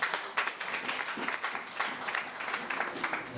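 A church congregation applauds in steady, fairly faint clapping that keeps going throughout, with some crowd voices mixed in.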